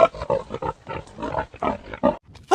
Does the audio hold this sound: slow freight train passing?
no